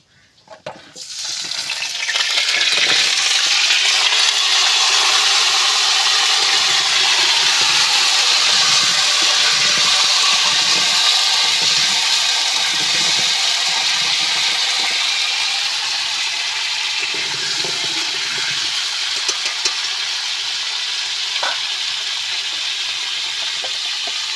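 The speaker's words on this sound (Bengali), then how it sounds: "তেল আমার গরম হয়ে গেছে, এবার আমি আমড়াগুলো দিয়ে দেবো।" Hog plums (amra) fry in hot oil for an Indian-style sweet-sour pickle, a steady loud sizzle that starts sharply and keeps hissing evenly with faint stirring, no talking.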